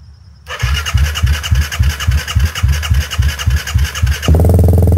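A Kawasaki KFX450R ATV with a modified exhaust cranks with a loud, rhythmic chugging of the starter for several seconds, then catches and fires into a steady, loud, close-up idle.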